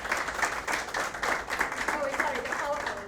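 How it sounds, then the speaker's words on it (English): Guests at a chartered accountancy graduation ceremony clap for the event's organiser, a moderate round of applause that runs throughout while speech carries on over the top. "I think a really hearty round of applause for her."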